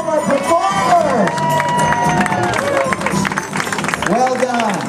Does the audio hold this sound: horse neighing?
no